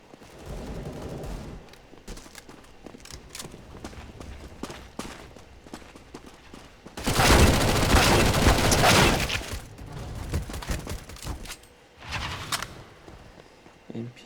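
CS:GO game audio with a burst of rapid gunfire in the middle and another short volley later, set against quieter in-game ambience and footsteps.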